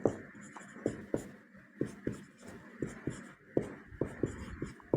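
Chalk or marker scratches and taps across a board during a class 10 maths lesson on real numbers, coming in short irregular strokes, close and fairly loud, with no talking over them.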